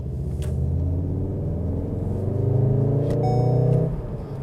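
An MK7 VW Golf R engine in DCC race mode hums and swells while driving on a cold night, a steady near rumble that rises briefly before easing off.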